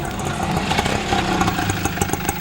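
A small auto rickshaw engine idles close by with a steady, rattling putter that holds throughout.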